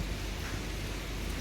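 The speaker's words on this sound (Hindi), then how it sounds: "और देख सकते हैं मौसम अब जो है ये बारिश हो रही है" Steady rain falls on a house roof, a dense even hiss that carries on without a break throughout.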